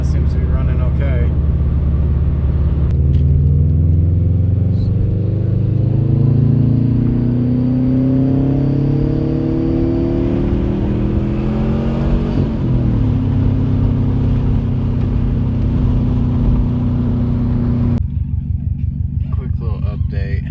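A Subaru WRX with a suspected transmission fault, heard from inside as a steady loud engine and drivetrain drone that rises and falls with speed and gear changes, with no talking.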